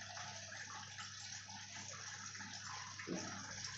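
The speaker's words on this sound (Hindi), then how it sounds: "तो पानी इसमें आ रहा है।" Water gushes steadily into a Bosch fully automatic front-load washing machine at the start of a blanket wash, a continuous close rushing fill with a low steady hum and no talking.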